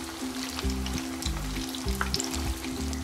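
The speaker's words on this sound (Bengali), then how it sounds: "এখন আমি একটু ভেজে নিব" Potato-stuffed bread rolls frying in oil over medium heat, giving a continuous close sizzle with bubbling crackle and a low background hum, no talking.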